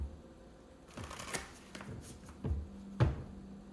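Tarot cards shuffled by hand at a reading table, a few soft riffling bursts and sharp flicks spaced apart over quiet room tone, close and fairly faint, with no one speaking.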